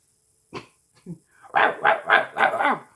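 A little dog lets out a couple of short yips, then a run of loud, rapid barks close to the microphone.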